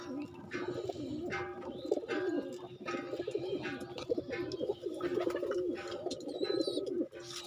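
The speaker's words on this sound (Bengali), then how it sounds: "ডাকাডাকি করছে আমার কবুতর।" A flock of home-kept pigeons by their nests coos continuously in deep, pulsing, repeated phrases, close and dense, with light chirps above and little talking.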